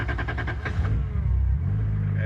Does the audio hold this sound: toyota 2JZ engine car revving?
yes